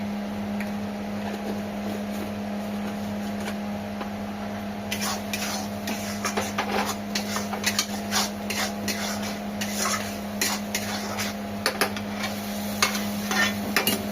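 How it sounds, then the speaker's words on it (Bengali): Masala paste with salt being stirred and fried for an egg and potato curry, rapid scraping spatula strokes over a steady low hum, close and continuous with no talk. "এই মশলাটাকে ভালোভাবে কষে নিতে হবে।"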